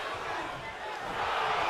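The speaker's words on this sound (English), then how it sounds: "The sound of this crowd is deafening, and he's asking for more." Roaring wrestling crowd from a video game pay-per-view event, a dense, loud, steady wash of cheering that swells toward the end.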